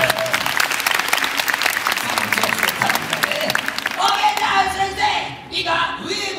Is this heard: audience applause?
yes